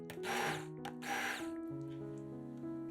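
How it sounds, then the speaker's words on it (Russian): An immersion blender purées cooked vegetables for soup in two short bursts, loud and close, then cuts out, leaving soft background music playing. "Измельчаем приготовленные овощи погруженным блендером в однородную массу."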